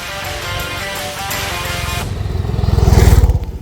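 A Honda H'ness CB350 DLX Pro Chrome motorcycle engine runs close by, a steady idle thump that grows louder and more pulsing toward the end, with no voices.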